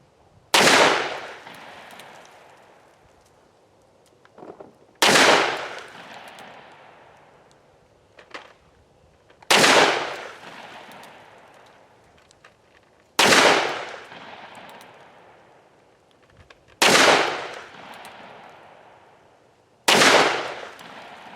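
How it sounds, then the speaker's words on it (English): Seven heavy gunshots from a Ruger Super Blackhawk .44 Magnum revolver, each a sharp loud blast with a short decaying tail, fired at slow intervals of roughly three seconds outdoors. "after you shoot the 44 Magnum"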